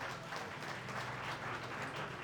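Guests at an engagement ceremony applaud together, a soft, steady wash of clapping heard from some distance that runs through the whole moment without a break.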